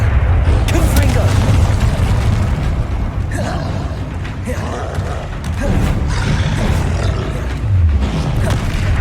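A troll in Hogwarts Legacy roars and bellows amid heavy booming thuds and bursts from spell combat, loud and rumbling throughout, with a voice speaking over parts of it.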